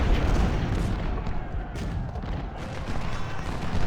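Artillery fire across a Civil War battlefield in Ultimate General: Civil War at the Battle of Cold Harbor, a dense, continuous rumble of distant booms and overlapping cannon blasts.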